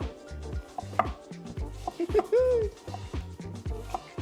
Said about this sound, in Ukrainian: поріжемо дзибуль